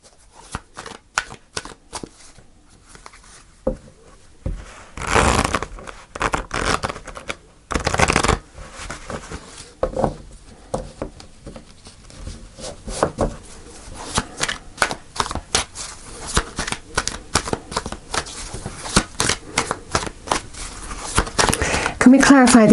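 Tarot cards shuffled by hand in repeated riffling bursts, close and fairly loud, with brief pauses between passes; no voice over the shuffling.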